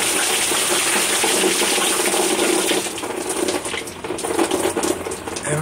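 Dirty household tap water gushing steadily from a faucet as the line is flushed, a loud continuous rush that eases and sputters slightly partway through.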